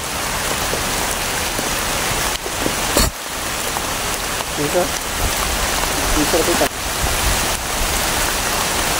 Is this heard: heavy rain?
yes